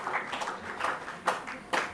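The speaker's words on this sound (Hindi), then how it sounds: "तो एक बार तेज़ी से अगर ताली बज जाए" An audience claps at a Hindi history talk, with bursts of hand claps rising and falling in loose waves over two seconds, moderately loud and with no talking.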